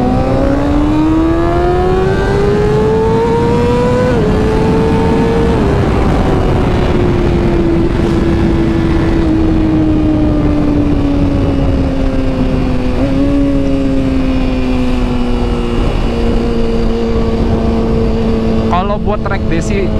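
A 2012 Kawasaki ZX-6R engine, redlining at 20,000 rpm, roars loudly and continuously at high revs, its pitch shifting slightly now and then, with rushing wind noise throughout.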